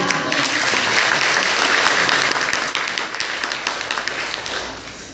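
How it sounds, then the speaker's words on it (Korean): A church congregation at a Korean Catholic Mass claps warmly in a dense, sustained round of applause that gradually thins out toward the end. "박수가 이렇게 사람을 기분 좋게"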